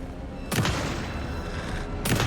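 Gunshots in Alan Wake 2 go off as two sharp, loud blasts about a second and a half apart over a low rumbling background, with no talk.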